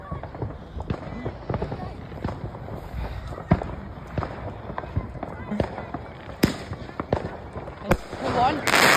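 Bonfire-night fireworks outdoors, scattered sharp pops and bangs from rockets at varying distances throughout, with people talking nearby and a louder burst at the end.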